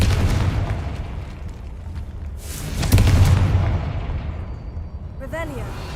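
Confringo blasting-spell explosion in a modded Skyrim game: a heavy booming blast swells and rumbles over a noisy background, then fades, with a voice speaking briefly at the end.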